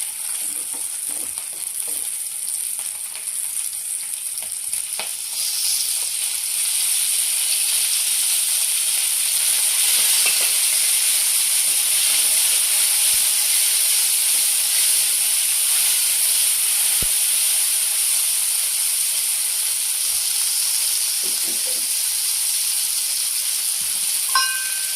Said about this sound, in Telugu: పచ్చిమిరపకాయలు వేగిని